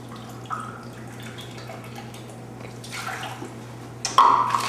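A cup of water poured into a mixing bowl while making a topping: a faint trickle and a few drips, then a brief louder splash near the end, close by over a low steady hum.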